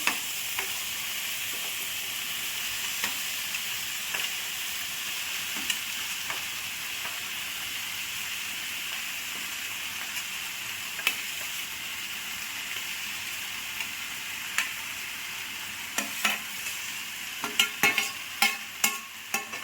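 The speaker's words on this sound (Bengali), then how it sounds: "মটরগুলো দিয়ে দিলাম, অল্প সময় ভেজে নেব" Boiled peas frying with spices in a pan for Bengali motor ghugni, a steady close sizzle with occasional stirring clatter building toward the end, no talking.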